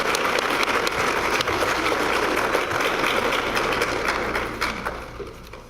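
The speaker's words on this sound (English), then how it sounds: "Let's give her a applause" Sustained audience applause at a high school graduation ceremony fills the room with dense, even clapping that carries on steadily and fades toward the end.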